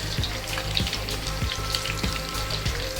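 Chilies hit hot oil in a pan while mutton karahi cooks, giving a steady, close sizzle and fry crackle with soft stirring knocks at a regular pace.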